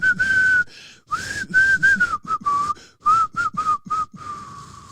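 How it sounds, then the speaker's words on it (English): A person whistles a simple tune in short phrases, the clear high notes broken by brief pauses and a breathy, uneven tone. "I can't whistle for shit, but I tried."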